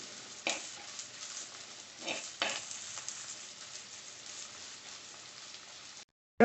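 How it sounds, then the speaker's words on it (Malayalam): Onion, ginger, green chillies and curry leaves fry in hot oil in a pan, giving a steady close sizzle with a few louder crackling bursts, then a sudden cut to silence near the end. "നമ്മുടെ ഉള്ളിയും ഇഞ്ചിയെല്ലാം നല്ലവണ്ണം ഒന്ന് ബ്രൗൺ നിറാവുന്നവരൊന്ന് മൂപ്പിക്കണം"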